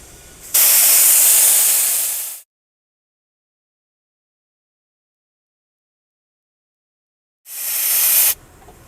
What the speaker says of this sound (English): We'll hear the air stop leaking.